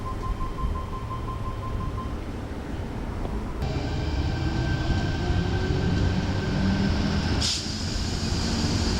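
A train rolls past a heritage-listed railway station at Kingsgrove, heading towards Beverly Hills, as a steady rumble of wheels with a faint whine and a couple of sharp clanks.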